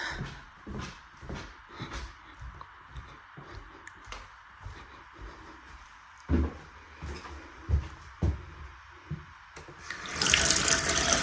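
Bathroom tap on a ranch running into a sink during a plumbing inspection, with water splashing and clattering amid footsteps and handling knocks, swelling into a louder steady rush near the end.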